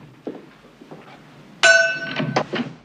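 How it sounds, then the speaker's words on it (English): A gong in the 1974 film Young Frankenstein is struck once, and a loud metallic clang rings and slowly fades after quiet murmuring, with further soft knocks as it decays. "Always good to have a gong."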